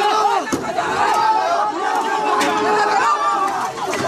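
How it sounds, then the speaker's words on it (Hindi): An enraged mob, gathered around a vehicle it is smashing and overturning, shouting and yelling loudly in a dense, continuous roar of many voices close by. "उग्र भीड़ के सिर पर जुनून सवार था,"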